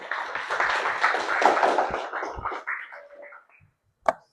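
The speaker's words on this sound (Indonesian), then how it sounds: "tepuk tangan untuk Shirley." Students in a classroom applaud a classmate after a biology presentation on plant and animal cells, with a few seconds of dense group clapping that thins out, then a single sharp clap after a brief silence.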